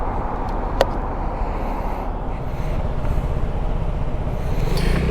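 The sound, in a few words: Vespa scooter riding on the road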